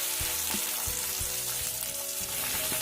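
Peas and softened onion frying in a pan, giving a loud, continuous close sizzle with a few quick stirring knocks and scrapes through it.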